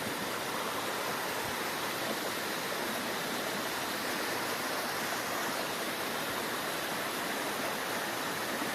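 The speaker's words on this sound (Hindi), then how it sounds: "बीच बीच में छोटे छोटे वाटरफॉल आते हुए" Small waterfalls along the Pindari Glacier mountain trek trail between Khati village and Dwali give a steady, even rush of falling water, close and continuous, with no voices.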